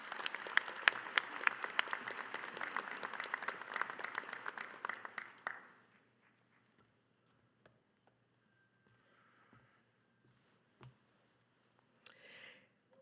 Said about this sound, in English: I ask that everyone give them a round of applause in their absence